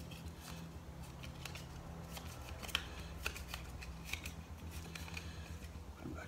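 A deck of board game cards is shuffled by hand at a tabletop, a quiet run of soft riffling and flicking with small sharp snaps scattered through, close and faint with no talk.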